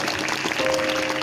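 A congregation at a Hindi-language Christian worship gathering claps together, a dense, sustained burst of applause filling the room.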